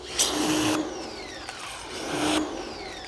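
A pressure washer runs to whip up suds in a soapy bucket during car detailing, its motor humming steadily with two surging bursts of spraying water, close and loud, no voices.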